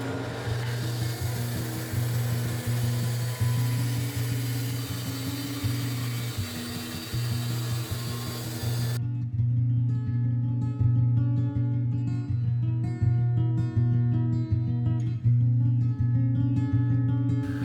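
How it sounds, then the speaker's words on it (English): A small bandsaw slices wood into thin brace stock in a workshop with a steady, close, droning hum and a rasping cut. The pitch and tone shift partway through as the blade works through the stock. "I'm going to take these over to my little bandsaw and slice up some 5/16 of an inch"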